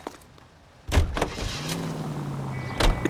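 Someone gets into a 1940s car in L.A. Noire: a soft rustle, then a sharp door thud, the engine starting with a rising whine, and a second thud near the end.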